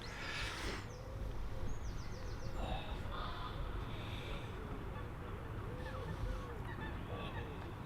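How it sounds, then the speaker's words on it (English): Birds by a lake on a cold early morning at a carp fishing syndicate: honking, goose-like calls and softer chirps rise over a steady wind-like background rumble, moderately distant, with brief calls scattered across the scene. "the birds are in full song this morning"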